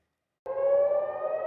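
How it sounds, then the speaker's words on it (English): An air raid siren blaring over Israel during wartime, beginning abruptly after a moment of silence and holding one loud, steady wailing tone. "Sirens blared over Israel Monday morning"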